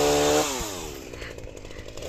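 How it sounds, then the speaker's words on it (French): A chainsaw engine revs loudly outdoors on a cold, windy day, then its pitch drops as it settles into a rough, steady idle close by. "Je vais tester la tronçonneuse aujourd'hui."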